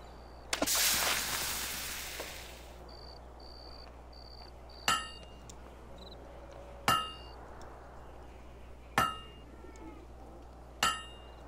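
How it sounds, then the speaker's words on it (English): Blacksmith hammer blows ring out on a blade being forged in the Fable 2 video game: four sharp metallic clangs at even intervals, each decaying quickly, after an opening burst of hissing noise, all fairly faint. "A perfect hammer blow."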